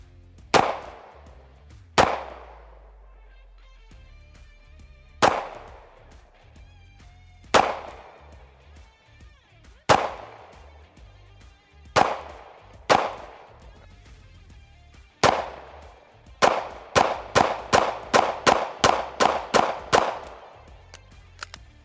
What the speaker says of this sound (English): Gun's very accurate, I can tell you that much. It's easy to shoot.